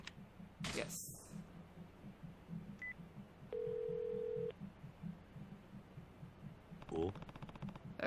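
Phone call in the video game Yakuza Kiwami 2: a short keypad tone, then a sustained ringback beep and further dialing blips over a looping low background music track, with a brief burst of game sound.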